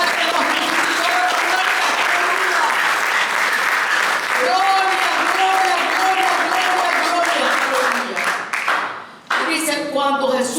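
A church congregation breaks into loud, sustained applause, dense clapping filling the space with voices and cheering mixed in and tonal sounds in the room, before the clapping thins and dips near the end.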